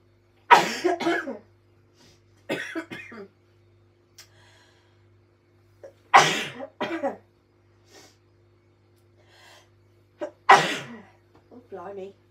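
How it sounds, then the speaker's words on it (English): Several sharp, loud sneezes and coughing fits burst out close to the microphone, separated by quiet pauses, with brief murmured speech and breathy noises in between. "I'm going to sneeze."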